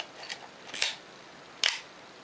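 Pentax K camera shutter curtains firing on bulb setting: two or three quick, crisp mechanical clicks, close and fairly loud against near silence, with a sharper snap toward the end.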